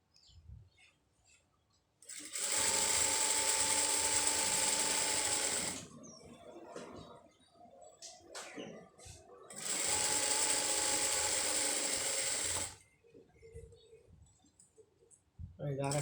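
A sewing machine stitches a round maxi dress in two steady, loud bursts of rapid mechanical whirring, separated by quieter handling clicks and rustles.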